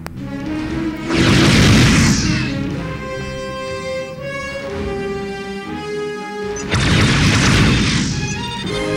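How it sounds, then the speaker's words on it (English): Heavy booming blasts in the space combat game Starfleet Command 2, two big crashing explosions with a ringing, tonal hum between them, loud and with no talking. "Some long-range phaser sniping there."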